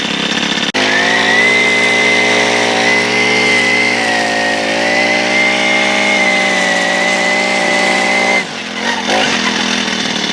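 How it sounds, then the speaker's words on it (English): A 2017 Senix 4-cycle grass trimmer runs close by with a loud, steady high-revving buzz, its pitch rising and holding before dropping off near the end, with no talking. "You can see the trimmer head runs in a counterclockwise manner, and it's really good."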